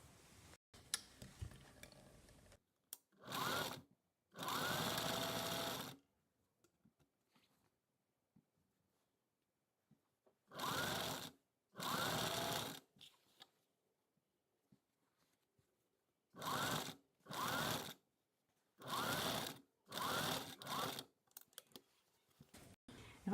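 A sewing machine stitches the crotch seams of cigarette trousers in several separate runs of steady, rapid whirring, each lasting one to three seconds, with quiet pauses in between.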